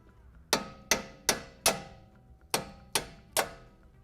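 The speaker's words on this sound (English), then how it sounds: "we're going to take a hammer and just pretty much smack these out" Seven sharp metallic hammer strikes ring out in an uneven rhythm, each one loud and clanging with a brief decay, close up, knocking parts out during a 2021 Ford Bronco Sport lift kit install.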